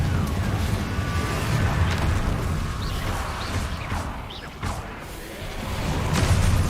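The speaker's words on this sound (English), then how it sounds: "Confringo." A Confringo fire spell explodes in the video game Hogwarts Legacy, a loud, dense burst of roaring blasts and whooshing debris that stays busy throughout, with a brief dip near the end.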